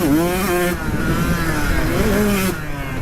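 A GASGAS dirt bike engine revs hard, then drops pitch briefly as it shifts into second gear and climbs again, loud and close throughout with no talk.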